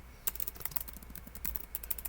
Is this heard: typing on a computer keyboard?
yes